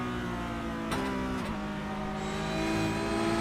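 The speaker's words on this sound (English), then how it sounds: "listen to the short shift there by Nikolai" Race car in iRacing at Zandvoort, its engine droning steadily with sharp quick upshifts near one second and one and a half seconds, the pitch dropping at each shift before climbing again, close and continuous.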